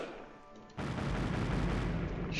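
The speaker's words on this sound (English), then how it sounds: "Anti-aircraft battery's being bombarded" An anti-aircraft battery under bombardment in the strategy video game Axis & Allies: a quiet hum suddenly gives way to a loud, dense, continuous roar of explosions and gunfire that holds steady for over a second and a half.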